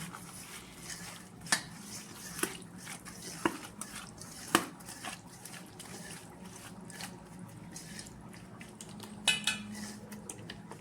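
Prawns are mixed with salt in a bowl with a steady wet stirring and scraping sound. Several sharper clinks of a utensil against the dish stand out, and there is no talk.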